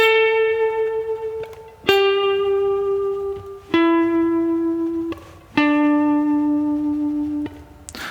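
An electric guitar plays four sustained single notes in turn, each picked sharply then held with a wavering vibrato before ringing out, clear and alone.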